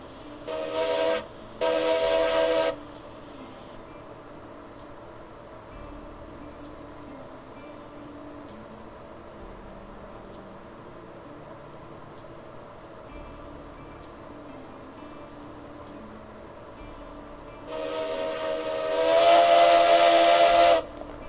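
A steam locomotive in the video game Railroads Online sounds two loud whistle blasts at the start and a long sustained whistle near the end, with a low, steady rumble of the engine between them.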